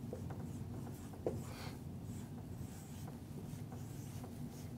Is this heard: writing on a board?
yes